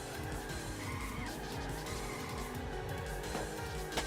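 An 86 with little grip drifts in a video game: a revving engine drones beneath a continuous high tire squeal and skid that run through the whole short stretch, fairly close, with no talking.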